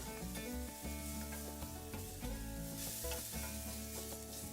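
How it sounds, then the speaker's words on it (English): White wine cooks off in a hot pan over direct heat, giving a steady close sizzle with light scraping and stirring noises and no talk. "we're just going to cook that wine out"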